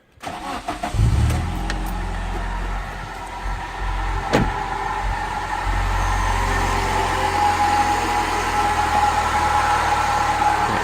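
Toyota Carina car engine cranking briefly, catching, then settling into a steady, fairly loud idle that lasts to the end, heard close up during a home service.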